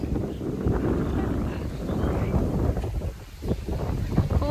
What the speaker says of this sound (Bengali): দেখেন খালি কি পরিমাণ বাতাস যে ছাড়ছে